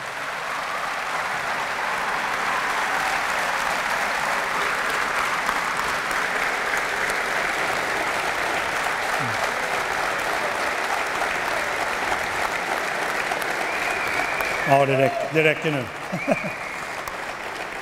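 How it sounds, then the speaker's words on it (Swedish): Steady audience applause fills a hall in Karlskrona as the Karlskrona hockey club coach is welcomed, a dense continuous clapping that runs loud and even before a voice cuts in briefly near the end. "tack för den applåden om den var till mig"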